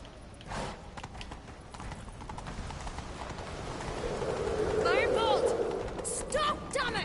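Hooves clop at a steady gallop beneath a soundtrack in the video game The Witcher 3, growing louder, with a voice speaking briefly partway through.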